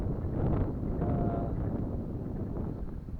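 Breeze buffeting the microphone at a lakeside campground on a lake at Hillman Ferry, Grand Rivers, Kentucky, a brief continuous rushing gust that stays loud throughout, with no voices.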